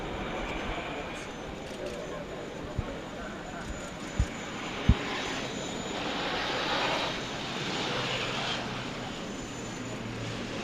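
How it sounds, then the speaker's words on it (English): An Airbus A400M military transport aircraft lands at an air show, heard as a distant, steady engine roar with a few brief thumps partway through and a slight swell near the end. "That's the A400M back on the tarmac."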